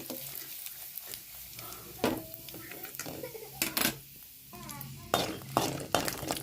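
Peanuts fry in oil in a pan for puliyogare, giving a low sizzle broken by repeated loud scraping and clattering bursts of stirring, close by.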